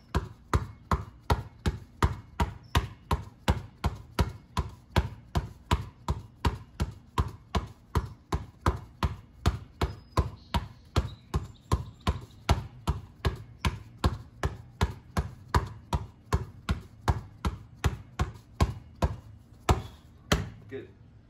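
A basketball is dribbled steadily during a moving ball-handling workout, with loud, sharp bounces about twice a second repeating without pause over twenty seconds.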